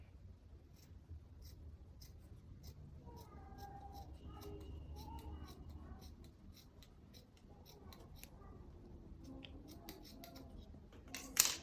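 Scissors cutting through fabric for a night robe, a run of short crisp snips spaced through a quiet room. No one speaks.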